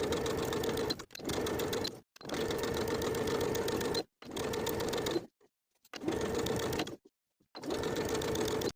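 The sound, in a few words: sewing machine stitching jacket sleeve seam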